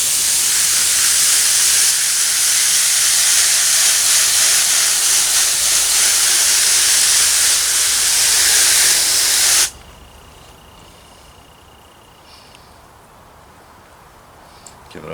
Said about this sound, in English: my garden hose has a mist on it